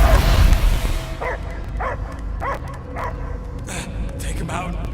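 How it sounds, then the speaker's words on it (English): A dog in the Guardians of the Galaxy video game gives a series of evenly spaced barks after a loud rushing burst, moderately loud over a rumbling game background. "I hear only barking"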